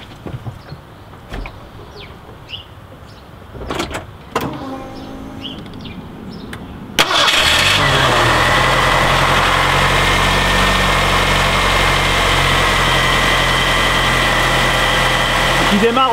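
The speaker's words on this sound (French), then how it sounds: "Il démarre au quart de tour." A Ford Mustang engine that has sat unused for several months cranks and catches abruptly after some quiet shuffling and a few knocks, then settles into a loud, steady, continuous idle.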